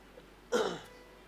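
A single short, rough throat clearing close to the microphone, then quiet.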